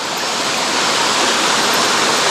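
A mountain stream flows in a loud, steady broadband rush of water, close by and continuous, with no voices.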